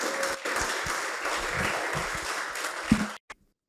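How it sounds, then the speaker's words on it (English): An audience applauds a guest lecturer at a leadership seminar, with dense, sustained clapping filling the room for about three seconds before it cuts off abruptly. "So with a round of applause, let's welcome our guest lecturer for today, Professor Enoch Antwi."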